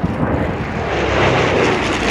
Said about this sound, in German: das fantastische Flugzeug vor, das in der Schweiz noch praktisch niemand in der Luft gesehen hat